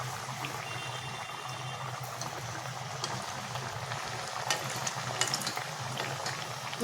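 Mysore masala vada frying in oil over a low flame, a soft continuous bubbling sizzle with small crackling pops, fairly quiet and close, with no talking.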